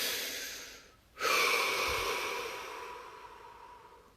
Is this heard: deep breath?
yes